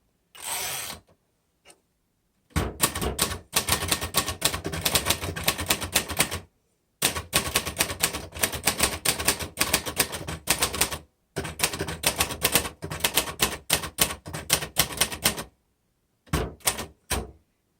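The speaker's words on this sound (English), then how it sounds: "not only is this a really pretty typewriter, but it's a good typer" Typing on a blue and gray 1958 Royal Futura 800 typewriter using the red ribbon setting: close, crisp bursts of rapid keystrokes in several long runs separated by short pauses, with no talking.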